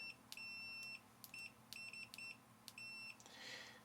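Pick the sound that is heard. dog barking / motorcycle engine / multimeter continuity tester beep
multimeter continuity tester beep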